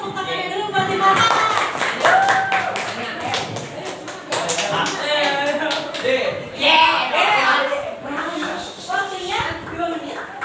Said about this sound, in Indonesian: Wadah teman-teman tepuk tangannya dulu buat Dimas.